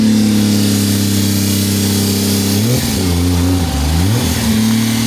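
A car engine holds a steady, loud droning idle, then revs up and down with wavering pitch during a launch, heard close with no talking over it.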